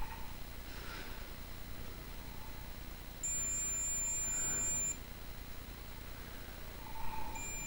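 A multimeter's continuity tester gives one steady, high beep of nearly two seconds, then a brief second chirp, while probing an Aerocool ASA-ATUC4PW USB charger with a fault. Faint room hiss fills the background, and nobody speaks.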